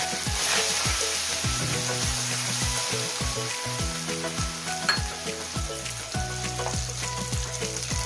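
Ginger, turmeric and cumin paste fries in a hot pan with a loud, continuous close sizzle. A spatula scrapes and taps repeatedly in an uneven rhythm as the paste is stirred.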